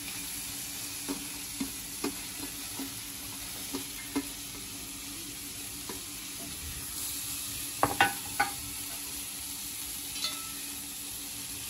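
Tomato and cabbage fry in a pan for a dry homemade chicken breast dish, a steady soft sizzle with scattered stirring clicks and scrapes, a small cluster of louder knocks near the end.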